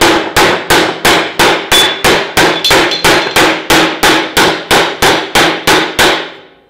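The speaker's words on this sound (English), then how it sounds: "using the round of the ball paint hammer." Steady rapid hammering of sheet metal with a ball peen hammer, about two blows per second, each a sharp ringing strike, loud and close, continuing for several seconds before stopping.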